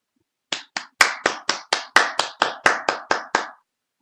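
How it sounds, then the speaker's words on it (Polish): A first-grade class claps together in about thirteen distinct, evenly spaced bursts, close and loud, with no talking over it before the clapping stops. "Jeszcze raz, proszę o brawa dla wszystkich."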